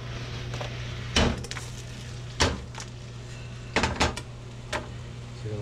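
A utensil scrapes and knocks in a pan while porcini mushrooms and onions are stirred, giving several sharp clanks at irregular intervals over a low background hum.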